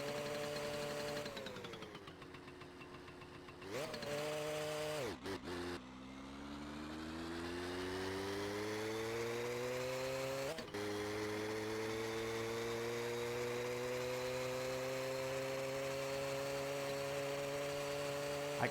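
Small two-stroke mini bike engine in My Summer Car idling and revving, a buzzy steady drone that rises and falls in pitch with a couple of brief cutouts, close and continuous.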